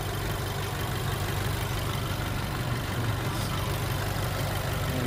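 A Mercedes-AMG CLA35 idles with a steady, even rumble heard up close at the open engine bay, continuous and unchanging throughout, with no voices.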